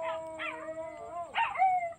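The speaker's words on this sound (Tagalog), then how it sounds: "Na mga aso to, alulong." Dogs howl in long, sustained wavering tones that rise and fall, with a second howl joining near the end; the sound is moderately distant and carries alone without speech.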